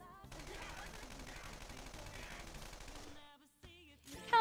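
Rapid automatic gunfire in the video game Persona 5 rattles for about three seconds as a dense, loud burst, then cuts out, leaving a gap before brief game sounds return.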